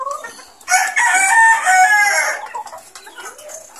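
White Kelso gamefowl pullets and hens kept in battery cages cluck and crow close by, a short burst of several overlapping calls rising together, then trailing off.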